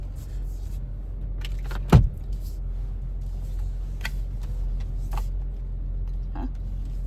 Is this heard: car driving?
yes